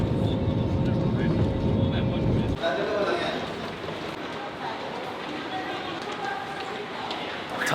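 A fixed-wing airliner touches down in Manila, a loud low engine and rolling roar that shifts abruptly to a steadier rumble of the cabin decelerating on the runway, continuous throughout.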